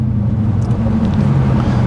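A BMW M3's V8 engine drones steadily, heard from the passenger seat as a loud, continuous low rumble with a few faint higher clicks over it.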